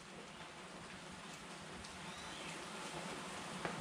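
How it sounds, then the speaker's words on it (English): Steady, dense rain pouring down in a continuous broadband hiss, with a faint tap or two near the end and no voices. "That's a lot of rain."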